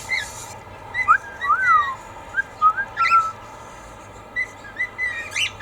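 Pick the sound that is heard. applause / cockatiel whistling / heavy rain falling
cockatiel whistling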